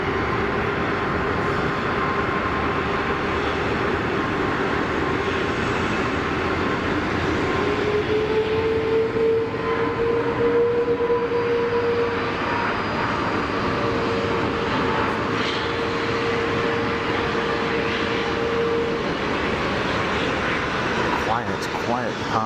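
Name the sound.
aircraft departing Geneva Airport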